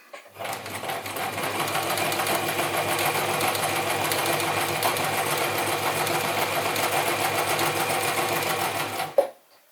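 A Gritzner 1002 or Pfaff 307 sewing machine stitches steadily for about nine seconds, a loud, even, rapid mechanical whirr with no pause, then it stops abruptly with a final clunk.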